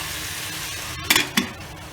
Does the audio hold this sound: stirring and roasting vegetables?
yes